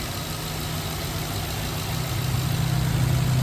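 A 2007 Toyota 4Runner Limited 4WD with the 4.7-liter V8 idling, a steady low rumble heard close and alone, swelling slightly toward the end.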